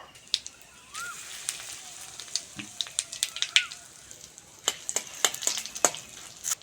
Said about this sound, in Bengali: গোটা জিরে নিয়েছি ফোড়নের জন্য দিয়ে দেবো হিং দিয়ে দেবো